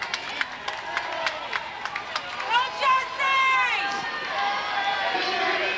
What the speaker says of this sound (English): the crowd is getting into this right now